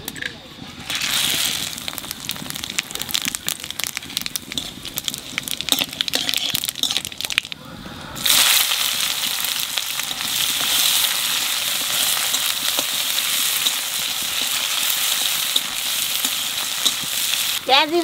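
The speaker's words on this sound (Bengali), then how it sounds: "তেলের উপর দিয়ে দেবো জিরে তেজপাতা শুকনো লঙ্কা" Cumin seeds, bay leaf and dried chilli hit hot oil, a loud crackling sizzle with stirring scrapes, then a steady hiss of frying that continues to the end.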